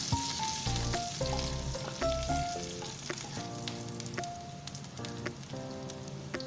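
Curry leaves are dropped into hot oil, a crackling sizzle with spits and pops, up close, while tonal background music plays throughout.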